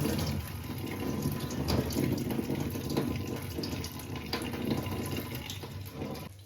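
Water splashes and trickles softly in a large bowl as puffed rice is washed by hand, a faint, continuous sloshing with small irregular swirls and no voices.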